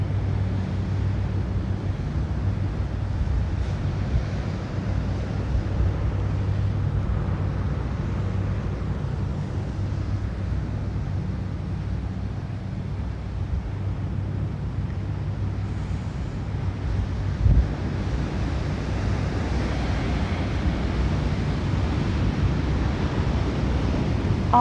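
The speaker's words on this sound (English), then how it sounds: "Maybe tune in to the sound of the waves behind me" Ocean surf breaks on a shore in a steady, continuous roar of washing water mixed with low wind rumble, with no voices and no distinct individual wave crashes standing out.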